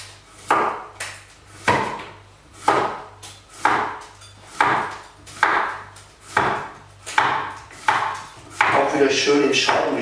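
A knife slices zucchini into rounds on a board, making about nine steady, evenly spaced chops up close, followed by a rustle at the end.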